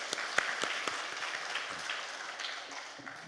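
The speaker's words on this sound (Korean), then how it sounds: "하나님 앞에 영광의 박수 올려드립시다." A church congregation at a fasting prayer retreat breaks into dense, steady applause that fills the room from start to finish, with sharp individual claps popping out over the crowd.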